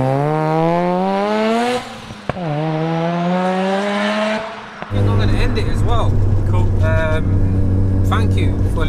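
A 450 bhp single-turbo Mazda RX-7 FD3S pulls hard through the gears with rising engine pitch, a sharp shift break between revs, then a loud, steady rasping drone from close by, with the sound of a road passing underneath.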